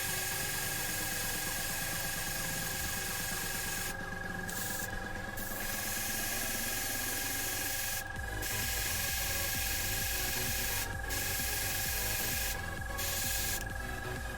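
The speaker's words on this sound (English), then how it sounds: "I still run my airbrush off of this tiny compressor because it's so convenient" An airbrush sprays paint for fursuit eye painting, fed by a tiny compressor that runs as a steady broadband hiss and hum throughout, with a few short sharper bursts of spray standing out.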